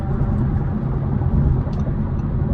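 An Audi RS5 Sportback cruises at highway speed in 8th gear, giving a steady low rumble of engine and road noise inside the cabin, fairly quiet and even throughout.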